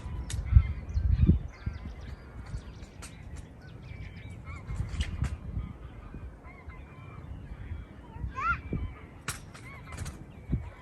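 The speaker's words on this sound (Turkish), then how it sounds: "Ördekler de artık yavaş yavaş evlerine gidiyor." Ducks honk repeatedly in Kinderdijk, Netherlands, scattered calls at moderate distance over a low rumbling background, some honks overlapping in quick bursts.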